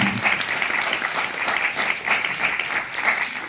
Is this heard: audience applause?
yes